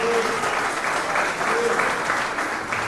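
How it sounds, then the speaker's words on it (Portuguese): A church congregation claps together at a sermon, a dense, steady wash of applause lasting the whole stretch, with faint voices underneath. "Vamos dar uma salva de palmas para Jesus."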